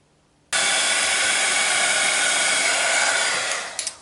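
A hair dryer blows steadily on a clipboard to dry a fresh coat of paint, switching on abruptly and running as a loud, continuous rushing whoosh before tapering off, with no talking.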